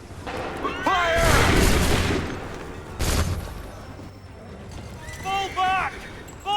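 Musket volleys boom out in an Assassin's Creed III battle, two heavy bursts spaced apart, with shouted commands and voices around them.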